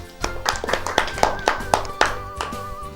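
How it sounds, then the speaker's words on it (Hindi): Clapping in a classroom-style lesson: a few people clap in a quick, uneven rhythm of about a dozen sharp claps, close and moderately loud, with a tonal sound running underneath. "तालियां।"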